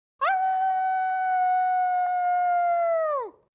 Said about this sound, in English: Gu Yupeng suddenly heard a wolf howl right next to him.